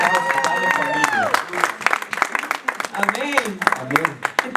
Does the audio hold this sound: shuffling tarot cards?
no